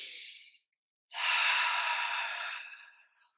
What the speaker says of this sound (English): Let's say deep breath.